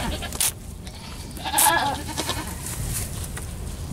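A newborn goat kid bleats in short, strained cries amid faint rustling and breathy sounds as it struggles to breathe, close by, with quiet pauses between the calls.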